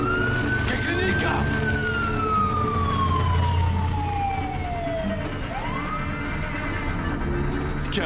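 An ambulance siren wails, sweeping slowly downward in pitch, fairly close and loud over street noise, with a second rising tone starting near the end.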